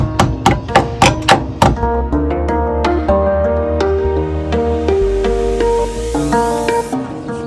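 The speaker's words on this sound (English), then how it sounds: "that's some pretty good left-handed hammering action" Rapid series of loud hammer blows while timber framing a house extension's first floor, then ringing metallic tones and scattered lighter taps as the strikes ease off.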